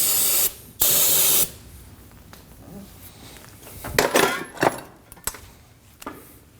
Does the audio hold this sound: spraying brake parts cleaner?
yes